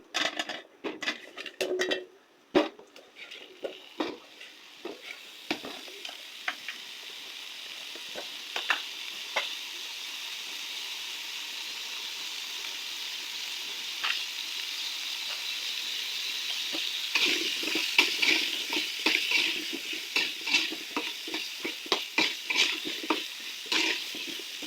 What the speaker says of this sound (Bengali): আর রান্না বান্না করে এবার আলু দিয়ে চুলায় আলুটা ভাজা রাখবো।